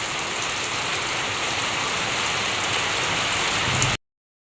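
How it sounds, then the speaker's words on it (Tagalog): Steady heavy typhoon rain on a leaking roof hisses without pause, a dense wash of drops on a hard surface, close and loud for about four seconds before cutting off. "Gawa po ng malakas na po ngayon ng ulan. Kaya po ganyan na po ang natulong tubig."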